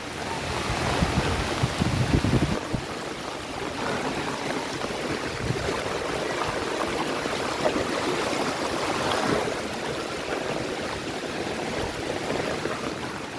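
Floodwater after heavy rain rushes along a road in Keezhayur, Pattambi, Kerala, pouring toward houses in a continuous loud churning wash that holds steady throughout.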